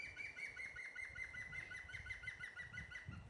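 A woodpecker calls in the Bulgarian countryside with a quick series of repeated sharp, high notes at a steady rhythm, faint and somewhat distant, with no voices.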